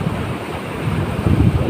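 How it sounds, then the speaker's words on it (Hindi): Floodwater rushes through an open gate in a flooded village, a steady, loud, broadband roar with spray and wind buffeting and no talking. "ये जो मार रहा है फुहारा एकदम सा।"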